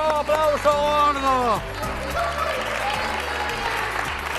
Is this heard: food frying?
no